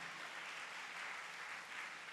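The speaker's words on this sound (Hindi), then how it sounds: "ताली तो बजा के परमेश्वर को धन्यवाद दीजिए।" A church congregation at a Sunday prayer service claps together in a steady, dense wash of applause, faint and somewhat distant, with no clear speech.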